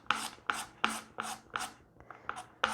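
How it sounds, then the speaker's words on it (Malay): Fresh carrot is grated by hand for spring rolls, giving a close series of about eight rhythmic rasping strokes, each a short scratchy burst with brief pauses between. "Sekarang kita akan parut carrot"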